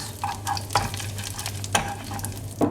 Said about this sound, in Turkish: Ocağın altını kapatıp bir tatlı kaşığı nane ilave edip karıştırıyoruz.